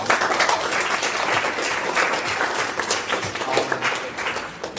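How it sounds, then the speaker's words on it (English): A presentation audience at an XR game jam breaks into applause, a loud, continuous, crowded patter of many hands clapping that holds steady from start to finish. "I would like to, first of all, have you all start off giving yourselves a round of applause."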